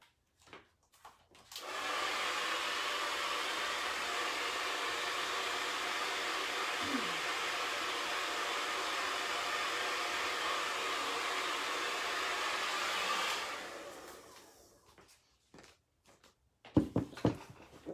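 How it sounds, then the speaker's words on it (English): Hair dryer blowing on freshly painted garden gate, a steady loud whooshing roar lasting about eleven seconds, then switched off, with a few handling knocks before and after. "I'm gonna hit this with the dryer and then maybe come back and do one more layer of my masking yellow"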